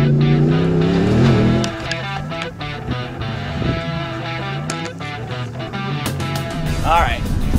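Ford Raptor and Mopar Ram Runner trucks driving on a sandy hill, an engine droning and revving up close, with a voice talking over it.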